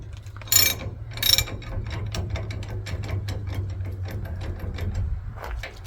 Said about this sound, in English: I'm gonna try to loosen the socket off of it.